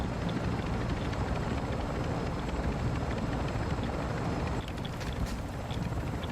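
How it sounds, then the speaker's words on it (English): A helicopter waiting for exfil in Call of Duty DMZ, a continuous, dense rotor thrum and engine roar filling the scene at steady loudness, with faint game sounds on top. "that helo is fueled and ready to provide exfil"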